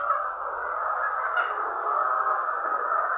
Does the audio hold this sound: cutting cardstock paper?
no